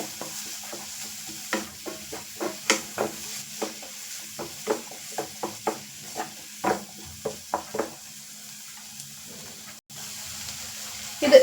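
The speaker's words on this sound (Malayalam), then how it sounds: "ഒരു ചെറിയ തക്കാളി ഒന്ന് അരിഞ്ഞു വെച്ചിട്ടുണ്ട് അതുകൂടെ ഒന്ന് ഇട്ട് കൊടുക്കാം ഇതും ഒന്ന് നല്ലവണ്ണം ഒന്ന് വഴിഞ്ഞിട്ട് വരട്ടെ" Chopped tomato sautéing in a pan for Kerala-style kothu parotta: a low, steady sizzle broken by a run of sharp, rhythmic spatula scrapes and taps, close and clear.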